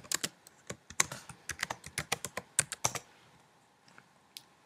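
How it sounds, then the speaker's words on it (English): Quick, light keystrokes patter on a computer keyboard as a username is typed, a burst of about fifteen close taps followed by a couple of isolated presses in a quiet room. "Type in my username."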